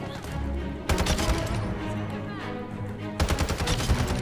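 Rapid automatic gunfire from a Modern Warfare 2 gunfight-mode match, loud bursts of shots crackling in two clusters with a steady game soundscape between them.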